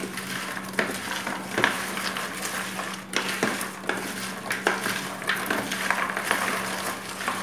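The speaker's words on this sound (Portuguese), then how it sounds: "Mexe bem a pipoca. Até ela ficar bem envolvida aqui, ó, com o chocolate." Popcorn stirred with milk chocolate in a pan gives a steady scraping and rustling, with soft clinks of the utensil against the pan under a faint constant hum.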